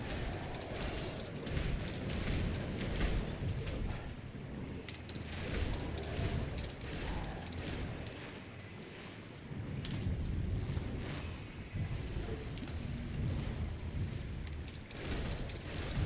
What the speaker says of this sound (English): So here's Blackwater Cocktail. You just throw it, and it's like a fire explosion.